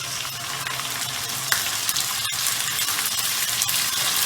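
Ginger garlic paste sizzles as it hits partly cooked onions in a pan for kheema, giving a steady, close frying hiss with a brief stir clatter partway through.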